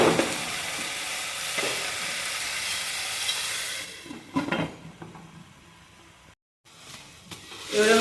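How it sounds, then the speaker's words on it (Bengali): Spice paste sizzles and fries in a pan for an elephant foot yam curry, a steady close hiss with occasional stirring scrapes that softens midway, breaks off briefly, then picks up again. "এবারে সুন্দর করে মশলাটা আমি কষে নেব"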